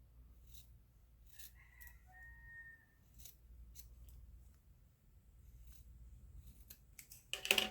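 Scissors snip through the points of a sewn fabric hexagon coaster, a few sharp separate cuts spread across a quiet, low background hum, with a louder clatter of handling at the end.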